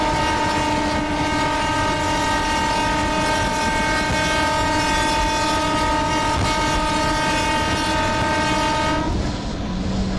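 A loud, steady electric-train horn blast with stacked harmonic tones, heard in the MSTS Open Rails simulator on the Sealdah–Dankuni EMU local route with a WAB-4 hauled train crossing, sustained over rumbling wheel noise until it cuts off near the end.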